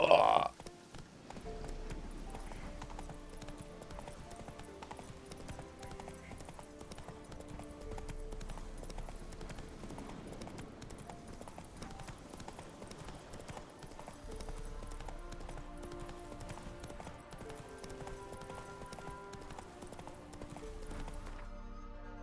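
Galloping horse hooves in Witcher 3: Wild Hunt beat a steady rhythmic clip-clop through the whole stretch, with background music and occasional faint movement sounds around them.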